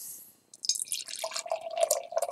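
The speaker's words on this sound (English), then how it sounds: "Let's pour it into the glass." Beer pouring into a glass, a close liquid trickle and splash that builds into a steady glugging pour with a rising tone after a brief quiet start.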